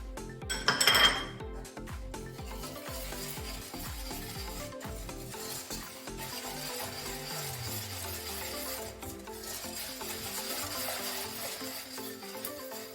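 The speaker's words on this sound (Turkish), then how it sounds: "unumu ve nişastamı koyuyorum. Şimdi kaynayana kadar karıştıracağım." Pudding mixture of flour and starch stirred in a pot for Turkish etimek dessert, a utensil scraping and clinking steadily against the metal with a loud clatter near the start, no voices.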